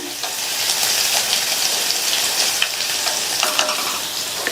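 Steady sizzling of garlic sautéing in hot oil, with occasional scraping stirs, close and continuous.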